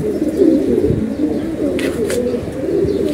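Jabra pigeons of an old breed line coo in low, repeated throaty calls that run steadily under a faint background hum, with a couple of brief higher chirps partway through.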